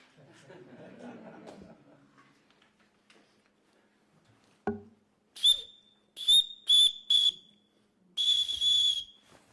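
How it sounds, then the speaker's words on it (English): Several sharp, shrill whistle blasts, a run of short bursts then one longer blow, following some quiet murmuring and a thump. "the sound of a whistle"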